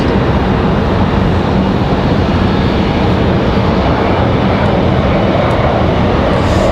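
A Southwest Airlines airliner touching down at Raleigh-Durham airport: steady, loud broadband jet roar that holds evenly throughout, with no talk over it.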